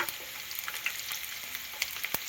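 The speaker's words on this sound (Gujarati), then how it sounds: "હવે લસણની કળીઓ નાખી દઈ." Garlic cloves fry in oil over a medium flame for a kantola (spiny gourd) curry. The sizzle is a steady, even hiss with scattered small pops, and there is no speech.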